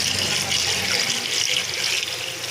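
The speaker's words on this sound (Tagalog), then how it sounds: "ilagay na natin ang tubig" Tap water runs steadily into a cooking pot at home, a continuous close splashing hiss with no talk over it.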